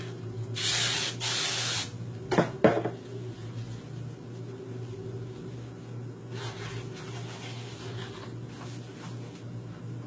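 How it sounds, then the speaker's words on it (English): Two bursts of non-stick aerosol spray hiss onto plastic wrap, then a few light plastic crinkles and taps, over a steady low hum in a quiet room. "Spraying it with the non-stick."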